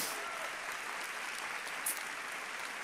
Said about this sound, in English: Give these guys a round of applause.